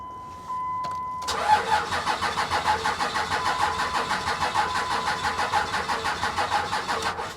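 A Humvee engine cranks over and over with a rapid rhythmic chugging, close and loud, never catching or settling into a run.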